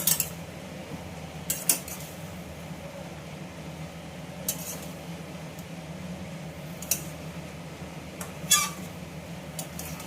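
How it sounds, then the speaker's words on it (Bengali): A spoon stirs pumpkin greens with lentils and peas in a pot, a few scattered scraping clinks of metal on metal over quiet kitchen background hum. "খুলে সবজিটাকে আমি আবার ভালো করে একটু নেড়ে নিই"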